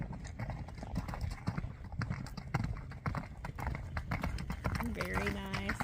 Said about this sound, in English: Oh, and he has such a pretty canter.